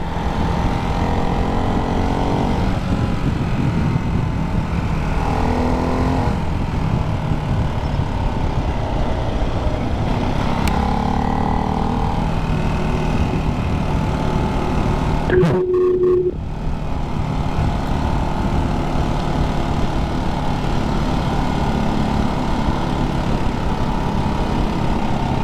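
A Ducati 698 Hypermotard single-cylinder motorcycle engine runs on the road, a steady loud drone with wind rush and shifting engine tones, briefly cut by a sharp change in pitch midway.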